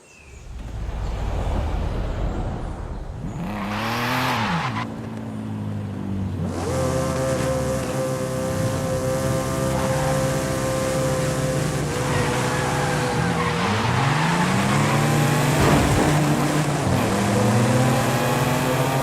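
A BMW M3 engine in a video game revs loudly and continuously, its pitch sweeping up and down through repeated gear changes and throttle blips, close and sustained throughout with no talking.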